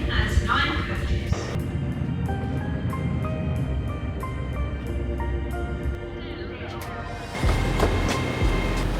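A Hong Kong train rumbles steadily along the tracks with a low, continuous roar and faint rhythmic clatter, with voices murmuring in the background.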